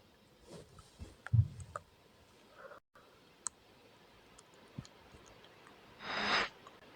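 Sparse, quiet mouse clicks sound one at a time at irregular intervals, with a short soft rustle near the end and no talk.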